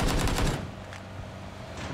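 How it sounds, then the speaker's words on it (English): Gunfire in PUBG, a rapid burst of automatic shots up front, loud and close, then fading into quieter background noise with a faint shot or two later. "Somebody's shooting at him"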